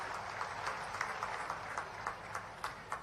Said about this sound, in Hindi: जोरदार अभिनंदन करें ताली बजा करके यशस्वी प्रधानमंत्री का